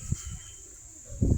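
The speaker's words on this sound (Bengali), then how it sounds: "আমাদের দেশি গিরিবাজ কবুতর," Domestic Giribaz pigeons cooing softly at close range on a windy day, two or three low throaty coos spaced apart over a faint steady background hiss.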